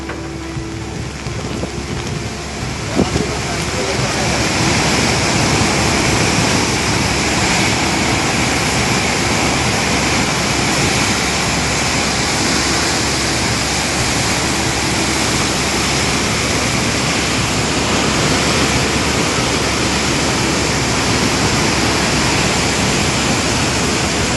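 A powerful, continuous roar of water overflowing a dam, loud and unbroken after a brief quieter start.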